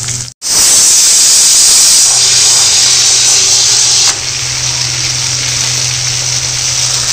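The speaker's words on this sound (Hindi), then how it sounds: "तो संगवारी होती बार भिंडी थोड़ा सा भुजा देते हैं, आलू लेके डाल दिए मैंने ना" Okra and potatoes frying in a pan, a loud, close, steady hiss and sizzle that starts abruptly after a brief gap and continues throughout, easing slightly partway through, with no talk.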